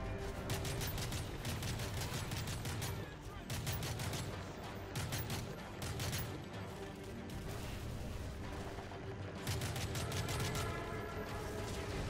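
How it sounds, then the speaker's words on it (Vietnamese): Rapid gunfire bursts in Call of Duty Modern Warfare 3 rattle almost continuously, with dense volleys and a few short pauses, loud and close throughout. "Bắn giật như điên các bạn ơi."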